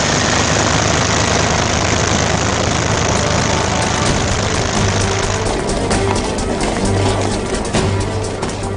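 Engines of Luftwaffe transport aircraft flying an airlift, a loud, steady low drone that runs throughout and grows rougher and more uneven toward the end.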